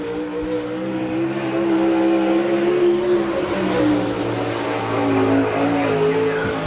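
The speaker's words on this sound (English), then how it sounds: "get the car warmed up a little bit" Sprint race car engine on a warm-up lap at an All Star Circuit of Champions event in Chillicothe, Ohio, droning steadily with shifting pitch and a rising, revving tone, loud and continuous with no talk.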